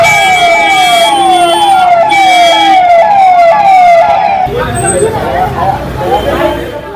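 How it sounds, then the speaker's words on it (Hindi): An ambulance siren wails loudly and close at Beur jail in Patna, repeating falling sweeps, then changes to a different, busier warbling pattern partway through, with traffic and crowd noise underneath. "एम्बुलेंस पहुंची है जेल के अंदर।"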